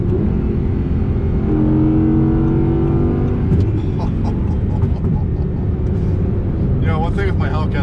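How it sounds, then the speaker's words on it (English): An Audi R8 V10 Plus engine roars and rises in pitch, then cuts briefly as the gear changes before pulling again, close and dominant throughout. "listen to that shift"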